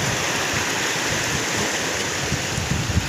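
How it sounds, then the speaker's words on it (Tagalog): Strong sea waves roll and wash near a fishing boat at a beach, a continuous loud broadband roar of surf and churning water with no talk over it. "ang lakas ng alon kaya hindi namin napakita pag-area ng lambat"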